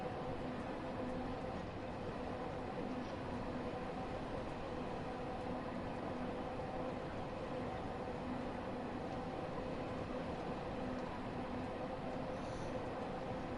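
A train running in Train Sim World 5 on approach to the platform at Stonebridge, giving a steady, continuous rumble and hiss of rolling wheels and motor, even and unbroken throughout, with no voices.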